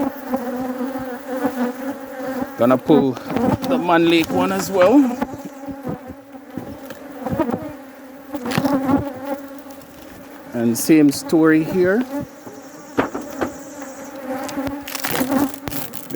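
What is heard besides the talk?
honey bees buzzing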